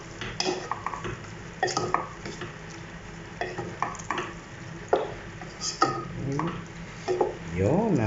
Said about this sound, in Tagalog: ngayon is halu-haluin natin siya.